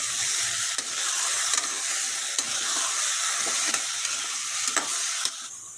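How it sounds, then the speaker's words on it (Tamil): Mutton pieces sizzle and hiss loudly in a hot pan for a mutton kulambu while being stirred, with a continuous frying noise punctuated by regular scraping clicks from the spoon. "இப்போ மட்டனை சேர்த்துக்கலாம். நல்லா மிக்ஸ் பண்ணிக்கலாம்."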